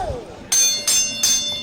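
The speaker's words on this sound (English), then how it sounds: "that was actually pretty good bell ring this time" Wrestling ring bell at an Alpha Pro Wrestling show struck three times in quick succession, each clang bright, loud and ringing out briefly before the next.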